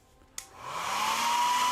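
A hair dryer, aimed at wet paint on a miniature model, clicks on and spins up, its airy whoosh and rising motor whine building quickly to a steady, close blast.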